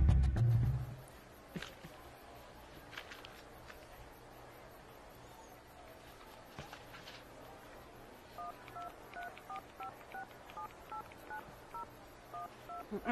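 A mobile phone's keypad gives short, evenly spaced beeping tones in a quiet room while its call history is erased, after a brief louder bump at the start.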